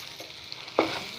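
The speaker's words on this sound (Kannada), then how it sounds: "ಚೆನ್ನಾಗಿ ಫ್ರೈ ಮಾಡಿಕೊಂಡು ನಾನು" Chicken biryani masala fries and sizzles in a pan with a soft, continuous hiss, and a brief louder stirring scrape comes close by.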